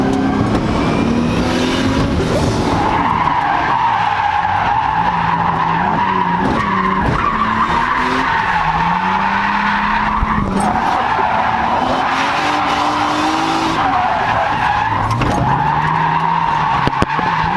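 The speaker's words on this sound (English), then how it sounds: "All suited up in my brother's 240, ready to drift." A Nissan 240 drift car slides at a drift event, its engine droning and revving loud and close while the tires skid and squeal continuously, pitch rising and falling with the throttle.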